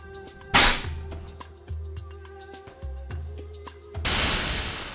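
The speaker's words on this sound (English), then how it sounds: "the hydrogen and oxygen ignite to project the plastic bottle through the air like a rocket" A hydrogen and oxygen mixture ignites inside a plastic bottle and fires it off like a rocket: a sharp, loud bang, then a short stretch of quieter pops and rattling, and a second burst of loud, rushing noise near the end.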